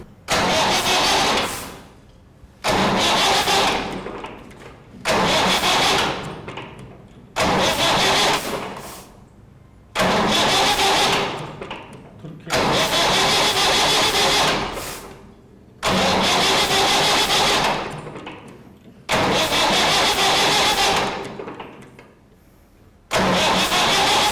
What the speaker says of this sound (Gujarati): હવે આપણે એન્જિન સ્ટાર્ટ કરી એટલે કે એન્જિનને દસથી બાર વાર ક્રેન્કિંગ કરીશું